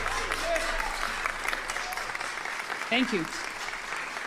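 An audience claps in a quick crowd applause that stays fairly faint and somewhat distant, under a brief spoken thank-you and some talk, at a Brazilian political event.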